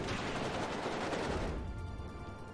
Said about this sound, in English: Leopard 2A4 trading shots with the BV there.